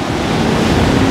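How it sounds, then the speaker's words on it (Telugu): Sea waves washing up on Coco Beach in Dar es Salaam, Tanzania: a loud, continuous rush of surf with heavy wind noise on the microphone, no voices. "మొత్తం నీళ్ళు మీదకి వచ్చేస్తున్నాయి"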